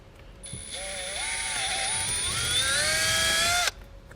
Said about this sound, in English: So I went ahead and marked the spot where we need to drill out a small hole.